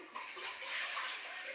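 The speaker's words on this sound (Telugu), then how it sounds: "ఇంకొంచెం నీళ్ళు వేద్దామా?" Water splashes steadily into a pot in one brief, soft pour.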